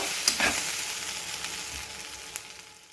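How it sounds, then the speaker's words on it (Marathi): Onion, mint, coriander, green chilli and garlic roast in a pan with a steady, moderate sizzle and a few faint stirring scrapes, no voices. "अशा प्रकारे आता हे आपण पूर्ण भाजून घेऊया गुलाबी होईपर्यंत."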